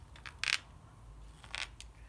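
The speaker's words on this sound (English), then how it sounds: "That's the sound of your knife traveling over the end grain." Sharp knife slicing across wood end grain while carving a Swedish butter knife with a thumb lever grip, two short crisp scraping cuts, quiet and close, alone.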